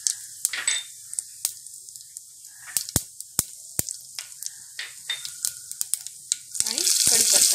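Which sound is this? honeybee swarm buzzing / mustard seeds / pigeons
mustard seeds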